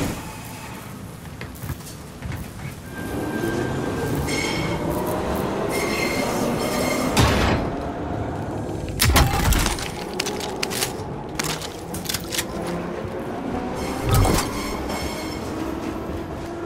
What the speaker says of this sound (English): This is our train arriving.